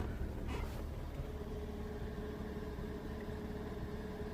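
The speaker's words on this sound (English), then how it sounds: "Now that the idling is lowering, I can feel something, kind of a puffing from the exhaust." A Ford KA 1.2 with a misfire idles faintly under the open bonnet, a low steady engine hum with slight uneven pulsing and no talk.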